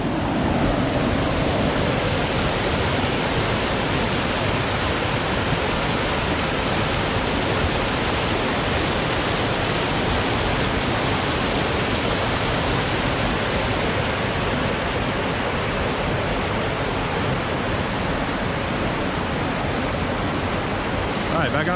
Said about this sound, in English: a little closer look at Big Creek here